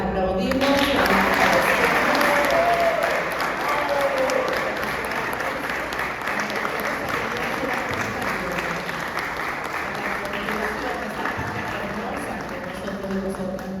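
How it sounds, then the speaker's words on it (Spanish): An audience at a Book Day event applauds young women writers with sustained, dense clapping that starts loud and slowly thins out, with some voices mixed in beneath the applause. "y que las aplaudimos."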